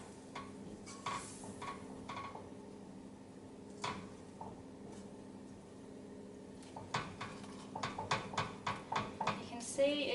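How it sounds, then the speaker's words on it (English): Vegetables, broccoli and cauliflower, stirred together with cheese sauce in a dish, heard as scattered clinks and scrapes that speed into a quicker rhythmic tapping near the end, with a voice talking throughout. "So as you stir these together"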